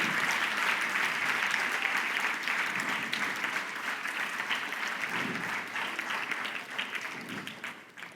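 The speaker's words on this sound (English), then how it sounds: "A big round of applause for all our brothers." An audience at a school investiture ceremony gives sustained applause, a dense, even roar of clapping that holds for several seconds and fades slightly toward the end.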